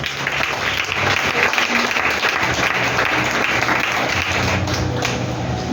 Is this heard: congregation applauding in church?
yes